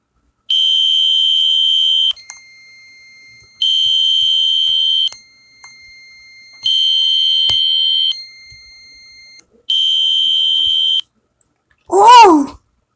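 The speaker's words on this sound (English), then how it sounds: "let's go to the garage and test that system sensor i3 smoke detectors" System Sensor i3 smoke detector alarm in a Roblox fire alarm game, sounding four loud, steady electronic tone bursts of about 1.5 seconds each with short pauses between, followed by a brief exclamation.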